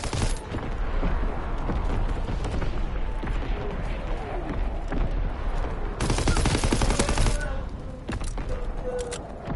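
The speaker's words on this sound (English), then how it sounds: "Enemy artillery." Enemy artillery and rapid gunfire in a video game, with dense overlapping bursts and sharp blasts over the full stretch and a heavier barrage near the end, mixed with game voice lines.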